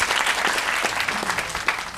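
Studio audience applause on a talk show set, a dense, steady wash of many hands clapping that holds at full strength for the whole stretch, with faint voices underneath.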